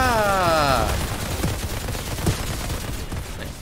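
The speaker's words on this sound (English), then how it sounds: "Switch over to my other gun." Rapid automatic gunfire rattles in bursts in the video game Outriders, with a whooping voice briefly heard at the start.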